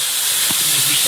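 Water poured into a hot pan of fried potatoes gives a loud, steady close hiss that fills the whole short moment, with no talk.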